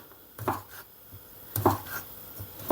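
A knife chops chorizo sausage on a board in two quick pairs of firm, close knocks, separated by a pause, with a light clatter between.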